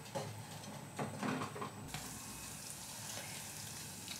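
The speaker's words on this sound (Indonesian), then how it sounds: "Roti goreng ya teman-teman" Bread frying in a shallow layer of oil, with a steady soft sizzle and crackle that carries on throughout, close by and moderately quiet.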